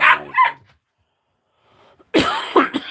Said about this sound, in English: Right now she's barking at everything and